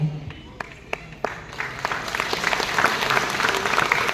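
Audience at a stage event breaks into applause after a few scattered claps, building into dense steady clapping from a crowd, with a voice heard briefly under it.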